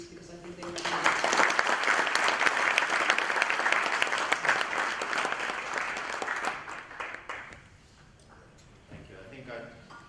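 A room of guests at a budget luncheon applauds the panel: dense clapping swells quickly, holds strongly for several seconds, then thins to a few scattered claps before a brief voice.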